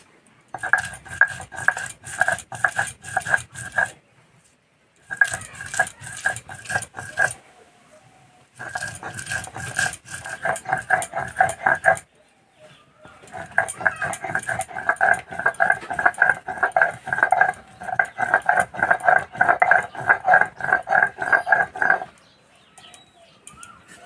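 Spice paste mixed and rubbed by hand for a fish fry, heard as repeated clinking and scraping of utensils against a dish in several bursts with short pauses between them.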